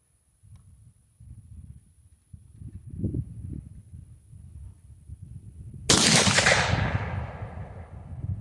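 A single loud 8mm Mauser rifle shot firing cast bullets from a bench rest outdoors, a sharp blast with a ringing tail after low rumbling handling noise.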